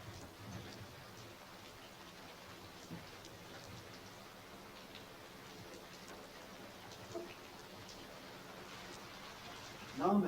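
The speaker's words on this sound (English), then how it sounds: "The first spring rain came early and turned our world into mud." An early spring rain falls over the old city of Herat, a soft, steady patter and hiss, faint and distant, continuing evenly with a brief louder knock near the end.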